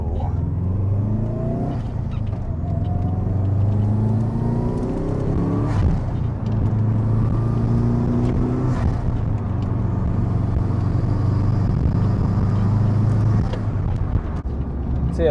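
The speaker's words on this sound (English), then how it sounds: "the car is really fun to drive" A car engine drones steadily from inside the cabin, rising and falling as it shifts through gears, with a constant low rumble throughout.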